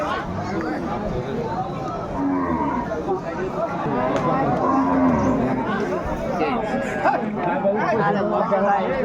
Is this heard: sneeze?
no